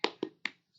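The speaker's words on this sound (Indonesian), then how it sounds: "Tepuk semangat." Hands clap three quick times in a brisk rhythm during a classroom 'tepuk semangat' cheer, each clap sharp and close, then silence.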